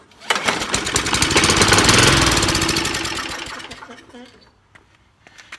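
A trash-picked 1997 Craftsman lawnmower, found in pieces with a broken flywheel, cranked with carburetor cleaner in the spark plug hole; the engine turns over with a fast rattling chug that swells loud and fades over several seconds, with a voice briefly afterward.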